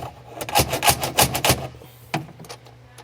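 A handful of quick, hard taps close by as a hammer nudges a plastic piece along a tonneau cover rail on a 2021 Ford F-150: several in a rapid cluster, then a couple of isolated knocks after a short pause.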